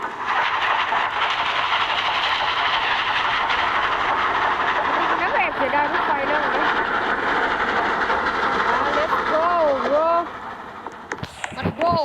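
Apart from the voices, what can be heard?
train passing in a video game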